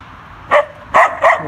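A dog barks three times, close and loud, with short sharp barks spaced unevenly over a quiet background.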